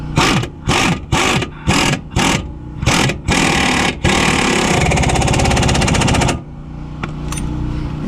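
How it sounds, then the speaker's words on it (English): A loud pneumatic impact wrench rattles in repeated bursts while tightening the lower control arm bolts on a Chevrolet Impala, the final burst running longer before a quieter air hiss. "now we're going to tighten up these two bolts"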